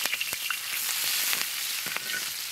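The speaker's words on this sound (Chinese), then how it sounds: "油锅下入葱姜蒜干辣椒" Scallion, ginger, garlic and dried chili stir-fried in hot oil in a home wok, giving a steady close sizzle with scattered crackles and a few scraping stirs throughout, no voices.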